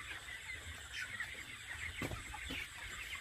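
Many chickens cluck together in a soft, continuous murmur, like a crowded flock of about 750 birds heard from a little distance inside a poultry house.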